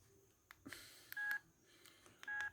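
Two short electronic beeps from Nokia 3310 3G keypad presses, each following a soft click, quiet and close with a pause between them.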